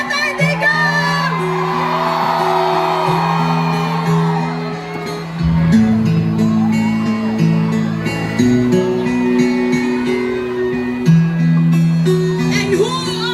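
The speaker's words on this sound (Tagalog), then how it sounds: "Isang malaking hiyaw!" Big outdoor political rally crowd at a Davao solidarity walk for Duterte, loud whooping and shouting in sustained waves, with voices bellowing and chanting over a humming sound system backdrop.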